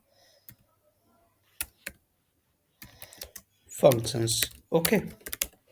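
Computer keyboard typing during a Qt programming session, a few sparse key clicks followed by a quick cluster of taps while someone speaks over them.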